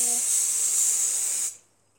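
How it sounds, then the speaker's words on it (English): Coloured hair spray hisses steadily from an aerosol can in one continuous burst for about a second and a half, then cuts off abruptly into near silence. "That's a lot of spray."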